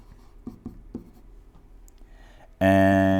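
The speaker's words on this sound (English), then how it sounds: "I'm going to have to erase some of this here." Soft rubbing of an eraser across written work during a chemistry problem session comes in a few quiet rhythmic strokes, then a sudden loud sustained tone cuts in at the end.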